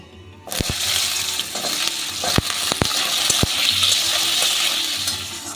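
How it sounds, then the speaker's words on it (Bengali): Diced potatoes frying in a pan with cumin seeds, a loud steady close sizzle with several sharp clicks and knocks of a spatula against the pan. "এই আলুটাকে আমি ভেজে নেব"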